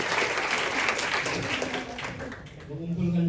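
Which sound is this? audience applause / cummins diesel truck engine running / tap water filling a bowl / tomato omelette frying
audience applause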